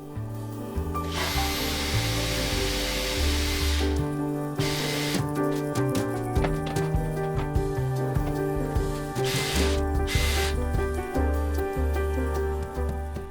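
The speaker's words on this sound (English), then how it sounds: "Pre-drill with a small drill bit." Small bit pre-drilling pilot holes into a wooden drawer while a Blum Movento slider is fitted, heard as a steady close power-drill whine with several on-off bursts and changes in pitch, no talking.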